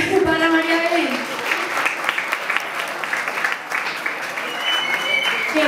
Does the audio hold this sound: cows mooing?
no